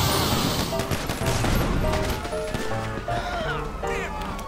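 Police gunfire in GTA 5 crackles in rapid bursts and volleys with impacts and crashes, loud and continuous, while a player talks over it.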